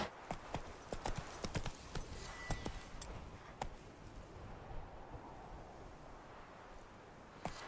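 Roach the horse galloping in The Witcher 3, quick rhythmic hoofbeats thudding at moderate volume that thin out toward the end, with faint ambient game sound beneath.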